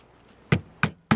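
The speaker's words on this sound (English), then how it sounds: "And then hammer it home." Fencing staple being hammered into a wooden Victor rat trap: three sharp, close metallic knocks spaced about a third of a second apart after a quiet start.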